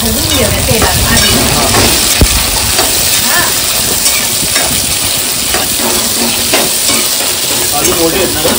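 Fresh cashew kernels roast in hot oil for a Malvani-style bhaji, a steady loud sizzle with scraping stir strokes and occasional clacks from the pan, continuing throughout with no talk.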